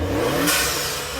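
Honda Accord Sport (2018–2021 generation) fitted with a DC Sport exhaust revving at a car meet, a loud raspy engine rise that swells sharply midway and then holds, with no talking over it.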